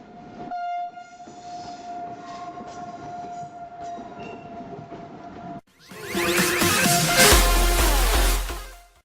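A Spanish Talgo 3500 high-speed train sounds a sustained horn tone, then roars past loudly with a sudden rush of wind and rail noise that swells and fades, with no voices.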